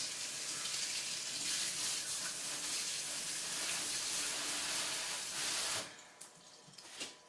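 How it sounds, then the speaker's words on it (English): A running tap gushes steadily while hands are washed during a live cake-decorating session. The flow is loud and close, then cuts off near the end and leaves a few faint clinks. "So again, wash my hands."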